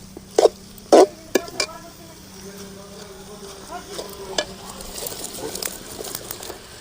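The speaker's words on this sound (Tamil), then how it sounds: "வேவிச்சு வச்ச உருளைக்கிழங்கு கொட்டி இந்த மாதிரி நல்லா வதக்கலாம்." Boiled potatoes being sautéed in a pan for Tamil-style white potato kurma, a low steady sizzle under several sharp scraping stirs and utensil knocks early on, then softer continuous frying and stirring.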